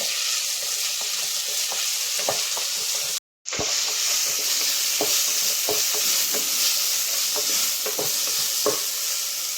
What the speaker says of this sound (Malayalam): തക്കാളി നല്ലപോലെ വെന്തുടയണം ഇതെല്ലാം കൂടി നല്ലപോലെ ഒന്ന് വഴന്നു വരട്ടെ